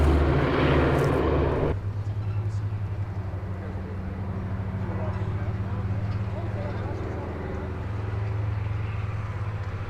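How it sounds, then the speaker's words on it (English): Small propeller airplane landing on one wheel at a fly-in, its engine droning steadily close by with a loud rush at the start, while people talk over it. "How was our one-wheel landing?"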